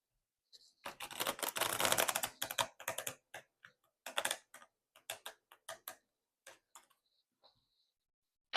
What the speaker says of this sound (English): I'm sorry if my shuffling is a bit rough.